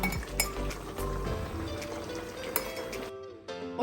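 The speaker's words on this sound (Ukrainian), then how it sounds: "беремо стерильну банку і накладаємо салат, закриваємо і окутуємо" Salad ladled into a sterile glass jar for winter preserving, with repeated clinks of glass and utensil and wet, sloshing fill sounds. A lid clatters shut near the end, close and fairly loud, with no talking.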